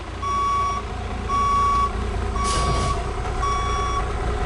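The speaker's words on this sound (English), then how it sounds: "As he comes back, the vehicle turns around." A truck reverses during a Class B CDL skills test of straight-line and parallel backing, sounding four evenly spaced backup beeps over a steady engine drone, with a short hiss of air partway through.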